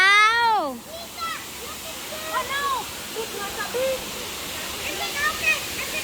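Waterfall in a rural province, a steady broad rush of falling water that runs through the whole clip, with children's and adults' voices and excited calls over it.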